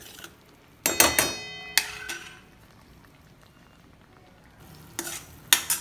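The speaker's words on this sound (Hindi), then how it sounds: "एक मिनट के लिए हम ये मसाले इसमें अच्छे से भून लेंगे" Spices being fried in oil in a pan for Jain shahi paneer, with a few loud bursts of stirring and scraping against a quiet, low sizzle in between.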